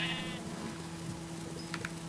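Sheep bleating in a video game: a short wavering bleat at the start over a steady low hum, followed by a couple of faint clicks.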